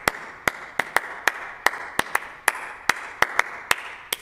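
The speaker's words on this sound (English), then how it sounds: "I will play just just clap out the pattern from here" Hand clapping in an irregular paradiddle-style rhythm, a dozen or so sharp claps with uneven spacing, close and dry, alone with no talk.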